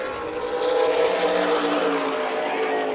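Stock cars race three wide at Tucson Speedway, their engines making a loud, sustained, overlapping roar that swells slightly through the middle and stays close and dense throughout.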